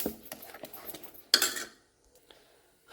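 A utensil stirs fermented appam batter in a bowl, giving soft scraping strokes and light clinks in a loose rhythm, followed by one sharper knock against the vessel and then near quiet.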